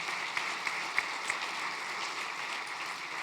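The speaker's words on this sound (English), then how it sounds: "Now let's give a round of applause for all of our panelists." Audience applause for a panel of speakers at an opening plenary session of a buildings and plants summit, a steady, fairly soft wash of clapping from a crowd with a few sharper claps standing out near the start.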